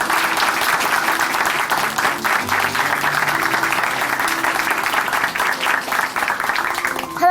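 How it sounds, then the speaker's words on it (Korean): A church congregation claps warmly and continuously, a full room of applause holding steady throughout, with faint music tones underneath. "다시 한번 큰 박수 보내드릴게요."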